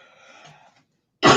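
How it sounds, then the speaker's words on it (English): A single short, loud cough bursts out at the very end, following a few moments of faint background murmur and near silence. "my cough is coming back."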